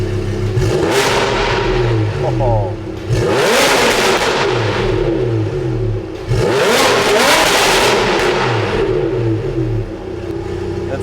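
A Lamborghini Huracan 5.2 V10 with an FMU-built exhaust and its valves open revs hard in three loud, close bursts. The pitch rises and falls on each rev, and someone briefly exclaims.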